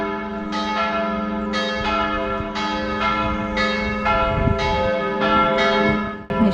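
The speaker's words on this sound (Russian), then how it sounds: "Видите, как колокола раскачиваются?" Church bells in Trieste, Italy, visibly swinging, peal continuously, several bells striking in a steady overlapping rhythm, loud and ringing with long decays.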